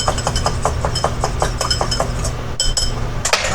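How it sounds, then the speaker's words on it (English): A whisk beats a lemon, garlic, herb and oil dressing in a bowl, with rapid, evenly spaced clinks of metal on the bowl, close and fairly loud, ending in a couple of scattered taps. "you just whisk it."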